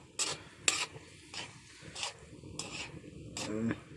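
Sautéed snake gourd with egg stirred in a pan, with a few separate scraping strokes and a faint sizzle in between, quiet and close.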